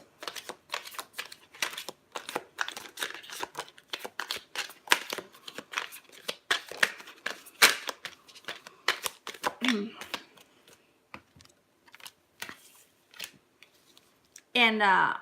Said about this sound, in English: I'm still gonna shuffle more